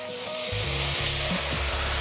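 Aromatics sizzle and fry in a hot pan just after being deglazed with Cilaos wine, a steady loud crackling hiss that swells and holds, with faint stirring underneath and no talk.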